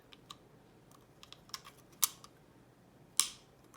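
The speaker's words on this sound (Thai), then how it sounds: "ให้มีเสียงคลิกหนึ่งคลิกนะคะ" A Midori stamp ink refill clicking into place in the stamp: a few small plastic clicks, the sharpest near the end, over quiet room tone with soft handling noises.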